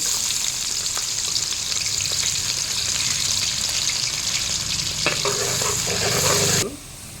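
Onions sizzling in hot oil with star anise and cloves, a steady close frying hiss with occasional stirring scrapes before the sizzle suddenly drops.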